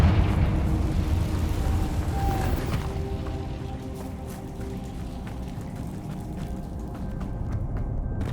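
A Confringo fire spell explodes in Hogwarts Legacy with a deep roaring burst, then a long rumbling, crackling tail that slowly fades over several seconds.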